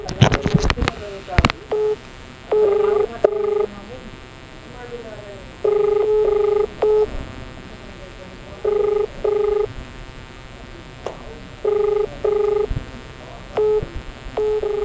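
A phone call ringing unanswered, with a repeated two-part ringback tone in regular bursts, separated by short pauses, heard clearly through a phone line after a brief clatter at the start.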